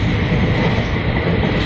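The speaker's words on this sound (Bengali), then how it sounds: "ট্রেন ধীরে ধীরে ছাড়ছে কলকাতা" Hazarduari Express pulling slowly out of Kolkata: a loud, steady rail rumble with a dense rolling roar of wheels and carriages, continuous and close, with no talk over it.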